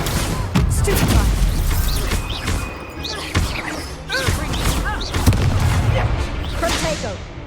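Repeated spell blasts and impacts in Hogwarts Legacy combat, loud thuds and crashes scattered across a busy battle mix with voices shouting spells and music underneath.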